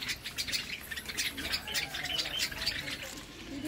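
Parrots and Java sparrows squawk and chirp in a crowded zoo aviary at Nandankanan Zoo, Bhubaneswar, a dense overlapping chorus of shrill calls running steadily throughout at moderate loudness.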